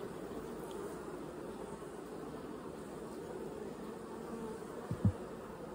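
Steady, dense buzzing of a honeybee colony inside a hive preparing to swarm, heard close and continuous with a faint background hiss and a brief soft knock near the end.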